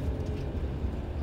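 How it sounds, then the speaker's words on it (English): A car towing a caravan rolls over campsite speed bumps, giving a steady low rumble of road and engine noise with faint knocks, close and continuous throughout. "Speed bumps."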